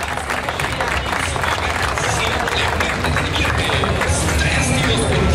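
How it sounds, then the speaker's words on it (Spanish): Crowd applause at a fair queen coronation in Huixtla, a continuous dense roar of clapping mixed with crowd noise and babble, loud and unbroken throughout. "Vamos a recibir con un fuerte aplauso"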